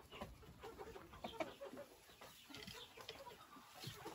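A Faverolles rooster clucks and calls close by on a hot day, with short repeated vocal bursts spread across the moment over a quiet farmyard background.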